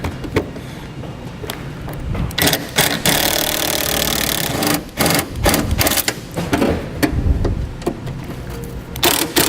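Power driver whirs in short bursts with knocks and thuds while removing 8mm screws that hold the bumper cover to the fender of a 2015 Ford Fiesta, close and fairly loud, with no talking.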